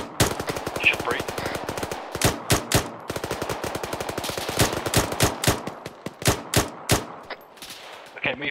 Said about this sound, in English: Okay, me first, give some covering fire.